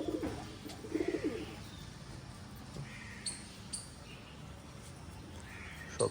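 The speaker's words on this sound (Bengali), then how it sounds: "দেখো বন্ধুরা, দেখতে কেমন লাগে, কত পায়রা।" Pigeons cooing at a house where many have gathered, with a few soft low coos early on and brief faint chirps scattered over a quiet background.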